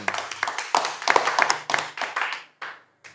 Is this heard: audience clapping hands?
yes